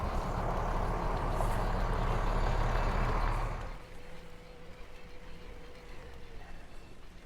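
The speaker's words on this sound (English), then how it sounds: "So I think this truck here is full of bikes, and then the bus has all the riders in it." A truck carrying bikes on the Hiawatha Trail rumbles loudly nearby with a heavy diesel drone, then pulls away and fades after a few seconds, leaving quieter outdoor ambience with a faint lingering hum.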